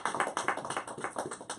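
Church congregation applauding during a Spanish-language sermon, with quick, crisp, evenly spaced claps in a fairly small, close group over a short burst.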